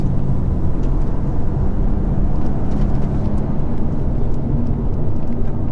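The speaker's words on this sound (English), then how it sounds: "And also the exhaust, the Remus exhaust, it's just brilliant" A BMW M2 Competition fitted with a Remus exhaust drives along, its engine and exhaust producing a steady, dense low-pitched drone mixed with road and wind roar, heard from inside the car at constant volume.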